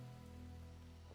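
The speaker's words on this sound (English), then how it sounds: "It's raining heavily!" Heavy rain falls over a dense mountain forest of ancient trees, a steady, unbroken wash of drops heard alone beneath a low, sustained tonal hum.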